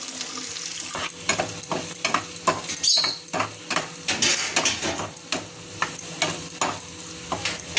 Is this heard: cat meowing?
no